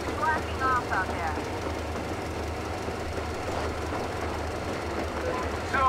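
A rail car engine in the Metro Exodus video game rumbles steadily at a moderate distance with a low, continuous drone and faint rhythmic clatter, while game characters talk briefly over it.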